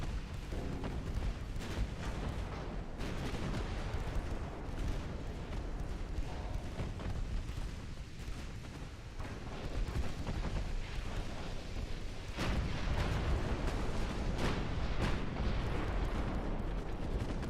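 Naval artillery salvos from warships in a strategy video game, with repeated heavy booms and rumbling impacts in a dense, continuous barrage throughout.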